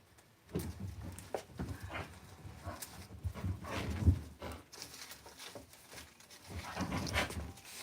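A dog indoors dashes around in a burst of excited zoomies, with scattered scrabbling paw thumps, scuffs and light knocks spread unevenly through the stretch, fairly quiet and with no talking.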